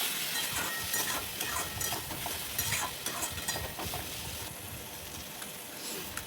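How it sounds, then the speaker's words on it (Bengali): Pointed gourd and shrimp curry stir-fried in a pan with tomato sauce and a little water, giving a steady, close crackling sizzle with scraping stirring strokes throughout and no talking. "এবার কষিয়ে নিচ্ছি ভালো করে।"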